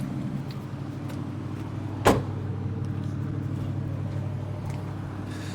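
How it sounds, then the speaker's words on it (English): Electric window motors on a 1977 Chrysler Imperial armoured car hum in a low, steady drone, with a single sharp thump partway through. "As you can see, the electric windows and motors still work."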